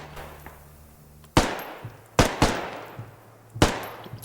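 Gunfire in the video game Squad: three or four sharp, loud bursts of shots spaced unevenly, each with a decaying echo, over a low steady hum, with no talk.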